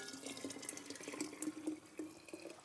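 Hot sweetened water pours onto fresh basil and mint leaves for iced tea, a close, gurgling liquid stream with bubbly splashes, heard alone without talk.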